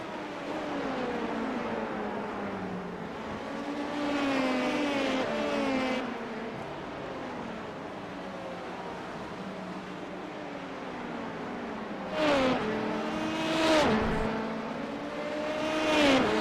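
A group of LMP2 prototype race cars in the iRacing sim at Watkins Glen sweep past, with a sustained, loud engine drone whose pitch glides up and down and a fresh cluster of cars roaring through toward the end.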